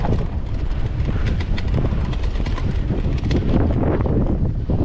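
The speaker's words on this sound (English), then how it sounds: "Wind's blowing." Steady wind roars across the microphone on a mountain single-track trail in Wyoming, a constant buffeting rush that fills the whole stretch with no talk over it.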